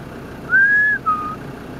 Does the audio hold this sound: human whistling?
yes